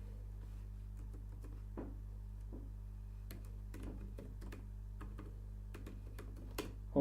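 Light, irregular clicks of typing on a computer keyboard, faint and close over a steady low hum, with scattered keystrokes and short pauses and no talking.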